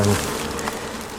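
A dense swarm of bees buzzing loudly up close around a hive, a steady, continuous drone with no voices.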